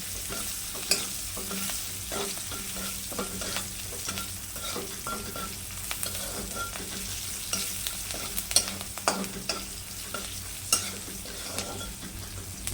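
Green chillies roasting in a hot pan until they blister, a faint steady crackle and sizzle with small pops and light stirring scrapes, no voices.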